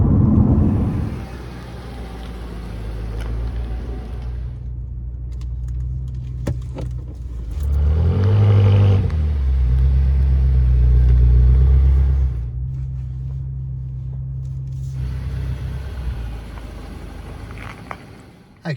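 A BMW M6, a four-door sports car on big tyres, drives on a road, its engine rumbling steadily and swelling as it accelerates in the middle, with some cabin noise and no talk.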